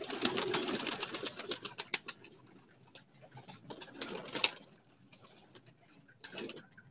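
Paired pigeons on a rooftop coo and flutter, with bursts of soft calls and scratchy movement coming in clusters, fairly close and moderately quiet.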